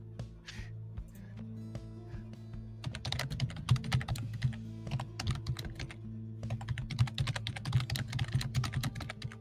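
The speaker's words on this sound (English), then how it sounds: "The more I hear the tippity tapping on the keyboard," Rapid tapping on a computer keyboard, close and fairly quiet, starting in short bursts and then settling into steady, busy typing with dense clustered keystrokes.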